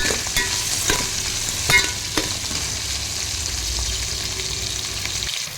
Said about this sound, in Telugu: అవి కొంచెం వేగిన తర్వాత కట్ చేసి పెట్టుకున్న ములక్కాయ ముక్కలు వేసేసుకోవాలి